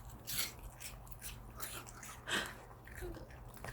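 A small dog bites into and chews pieces of apple up close, making wet crunches in irregular bursts with chomping in between, while a person speaks softly now and then.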